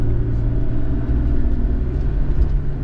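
A BMW E36 engine revving with the gas pedal held down, a steady, loud low rumble heard from inside the car, without clear rises or drops.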